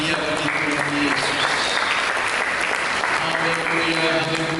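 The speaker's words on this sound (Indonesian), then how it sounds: "mari kita berikan tepuk tangan yang meriah bagi Tuhan Yesus" Loud, steady applause from a church congregation at a Christmas service, a dense wash of clapping filling the whole stretch with no break.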